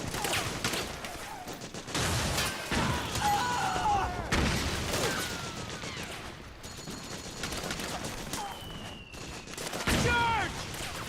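Rapid bursts of gunfire and explosive cracks from a Metal Gear Solid 4 battle fill the scene, loud and nearly continuous, with shouted voices mixed in.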